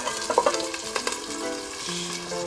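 High-grade Saga beef steak frying in a pan, a close, steady sizzle with a few sharp spatters and pops near the start.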